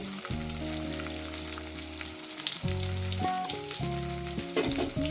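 Onions frying in a pan as the base for a fish curry, a steady sizzle with a few stirring noises, heard alone without talk.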